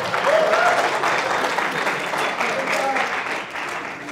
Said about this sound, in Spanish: aplauso para Eitan también